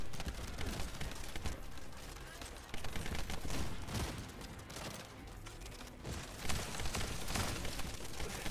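Rapid bursts of automatic gunfire from a shooter game, The First Descendant, crackle in dense volleys across the whole stretch, loud and busy, with someone talking over the shooting.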